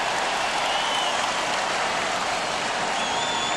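A dense Conseco Fieldhouse basketball crowd roars steadily throughout, a continuous loud wash of noise with faint whistles rising above it, during NBA Finals free throws by the Lakers at the Pacers.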